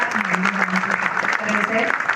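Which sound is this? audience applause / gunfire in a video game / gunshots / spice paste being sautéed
audience applause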